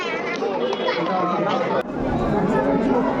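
A dense, busy crowd chatters continuously on a packed Christmas outing, with many overlapping voices forming a steady, loud babble close around.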